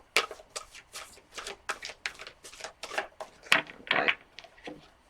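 A deck of tarot cards being shuffled up close, with a quick run of crisp riffling flutters and soft slaps in an irregular rhythm, quiet and alone.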